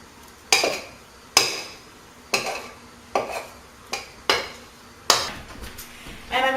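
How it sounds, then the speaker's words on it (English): Pastry cutter cutting shortening into flour in a mixing bowl, seven or eight sharp clanking strikes against the bowl at a steady pace, close and fairly loud, a short scraping rustle at the end. "Now I'm going to cut this shortening up just a little bit so that it gets easier to mix into the flour."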